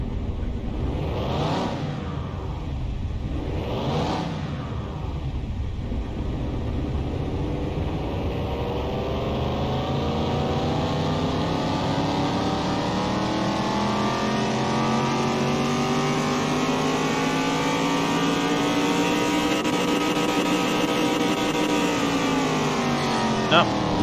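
A car engine runs on a dyno, revving twice in short sharp bursts, then climbing in one long, loud, sustained pull through the gears with a rising and falling whine.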